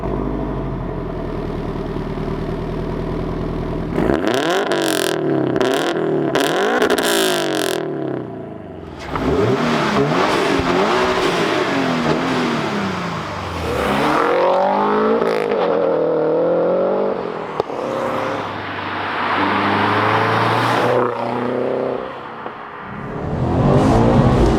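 Turbocharged Toyota GT86 tuned to 340 bhp starting up, then revving hard in repeated sharp bursts before settling into sustained, loud engine roar with rising and falling revs, close by and with no talk.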